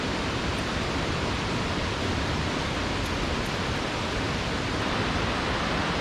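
A large waterfall in Tennessee pours in a steady, dense broadband roar that fills the whole stretch without pause, close and loud, with no talking.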